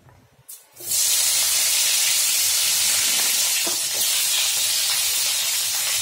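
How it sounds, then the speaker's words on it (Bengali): Spinach and vegetables fry together in a hot pan, a loud steady hiss and sizzle starting abruptly after a brief quiet moment and continuing without talk. "এগুলো একসাথে ভেজে নেব"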